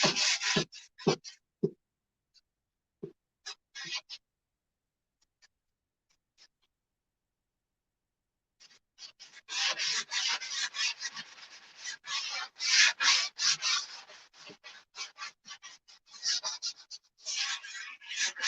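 Sandpaper rubs over painted furniture to distress it, first in a few short isolated scrapes separated by silence, then a run of rapid, close, raspy strokes that continues steadily to the end.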